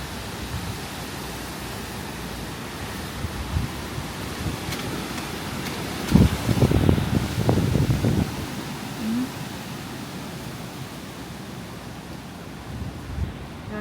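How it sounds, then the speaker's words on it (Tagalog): Strong typhoon wind roars as a steady, broadband rush close to the microphone, swelling into louder gusts around the middle before easing back to a constant blustery hiss. "Grabe lakas. Sobrang lakas ng hangin."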